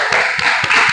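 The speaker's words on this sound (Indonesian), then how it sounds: "Beri tepuk tangan dulu." Classroom applause for a group presentation at an elementary school, a brief burst of clapping from several children in a room, steady and fairly loud throughout.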